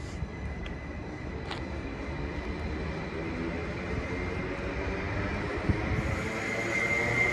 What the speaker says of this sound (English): Got London Overground approaching there, and a bus.